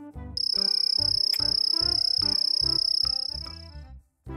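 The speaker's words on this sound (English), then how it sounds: "Cricket." A cricket chirps in a steady, high-pitched, rapidly pulsing trill that runs continuously for about three seconds over a soft rhythmic backing before fading out.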